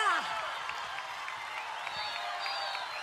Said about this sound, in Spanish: Esta plaza de pie te está brindando un aplauso